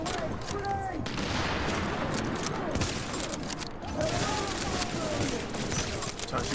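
Dense, continuous gunfire from squad weapons crackles through a co-op firefight in The Division at the Hudson Refugee Camp, steady and loud throughout, with players' voices talking over it.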